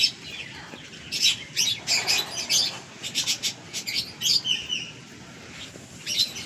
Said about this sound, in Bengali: পায়রাগুলো ভল্ট মারছে এক এক করে